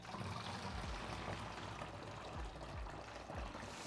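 Film-developing chemical pours steadily out of a film tank in a continuous, close gurgling stream, with a few low glugs as it flows out.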